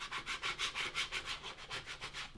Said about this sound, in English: use my squeegee to squeegee it on down